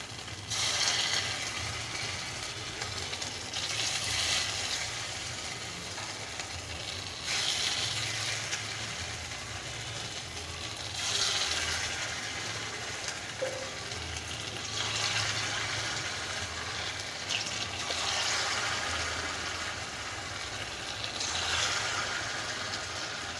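Gandal leaf fritters in batter fry in a pan with a steady, moderately loud sizzle and bubbling that swells and eases in slow waves throughout, with no talking.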